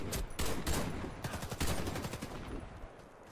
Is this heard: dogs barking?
no